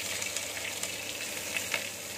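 Sliced onion dropped into hot oil already holding popped mustard seeds and curry leaves, giving a steady close sizzle with small crackling pops throughout.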